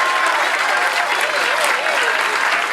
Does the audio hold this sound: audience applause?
yes